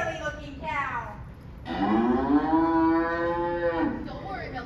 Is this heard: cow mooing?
yes